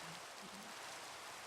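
Rain in the Minecraft video game, a steady soft hiss of falling rain filling the background, even and continuous, with a faint low tone briefly underneath.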